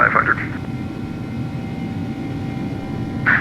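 An Airbus A300-600F freighter climbs out after takeoff in the X-Plane 12 flight simulator, its engines a steady cabin roar, with brief radio voices at the start and end.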